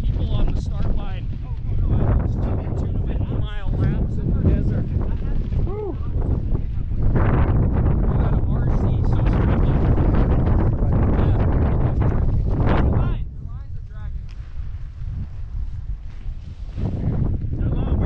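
Strong wind rushes steadily during a belly-fly skydive over Dallas, a loud, continuous roar that drops and eases slightly near the end, with people talking over it.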